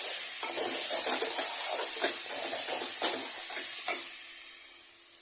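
A spatula scrapes and stirs through a jackfruit curry with turmeric in a pan, making repeated close strokes over a steady bright sizzle that eases off near the end.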